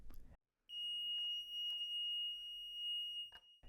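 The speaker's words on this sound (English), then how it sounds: "If you replace the LED with a buzzer, we have created a simple light-sensitive alarm." A buzzer in a simple light-sensitive alarm circuit built around a photosensitive resistor and comparator gives one steady, shrill electronic tone that holds for nearly three seconds, loud and clear with nothing else around it.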